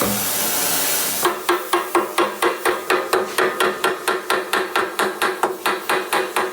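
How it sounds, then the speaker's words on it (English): A loud hiss gives way to rapid, steady blows from a hide and copper hammer on metal of a 1983 Yamaha IT490K dirt bike, ringing strikes repeating about three or four times a second. "That's a hide and copper hammer."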